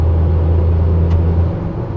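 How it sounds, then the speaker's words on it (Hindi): Steady low rumble of road and tyre noise heard from inside a high-mileage Tata Altroz petrol hatchback on the move, loud and continuous with a brief higher hiss partway through. "एकदम रोड सुनाई दे रहा होगा।"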